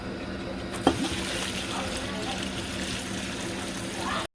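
Water poured onto peas in a large pot for pav bhaji, opening with a sharp splash and then a steady trickling pour that runs evenly to the end with no talk.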